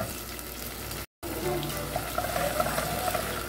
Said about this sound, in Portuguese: Vou botar um pouquinho de água